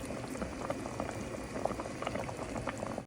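Fish curry gravy bubbles away in a pot, simmering down to reduce, with a steady close boil and dense popping throughout.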